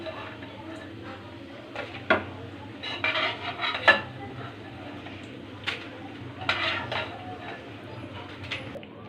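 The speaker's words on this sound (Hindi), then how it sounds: "अब हमारे पकोड़े तैयार हो गए हैं और अब हम इसको डालने जा रहे हैं एक प्लेट में।" Fried onion and potato pakoras are moved onto a plate, with scattered clinks and scrapes of utensils against dishes, fairly quiet and near.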